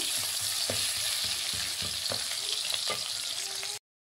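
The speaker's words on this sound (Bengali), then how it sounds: "এর মধ্যে পেঁয়াজ কুচি দিয়ে দিচ্ছি। পেঁয়াজটা একটু লাল লাল করে ভেজে নেব।" Chopped onions fry in hot oil in a pan, giving a steady, close, loud sizzle with scattered crackles and a few soft stirring knocks, running alone until it cuts off abruptly.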